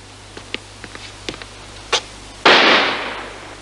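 Firecrackers or salute shots go off in a radio-play sound effect: a string of small sharp pops, then one loud close blast with a long rumbling decay.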